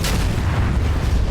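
A video game Tomahawk missile with a 1,000-pound warhead detonating: a loud, close, sustained rumbling boom with heavy low-end roar filling the whole moment, no voices over it.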